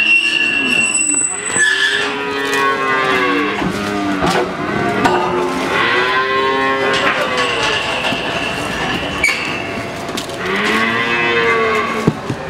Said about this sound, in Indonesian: ini sepertilah kondisi di pasar sapi Ambar Ketawang.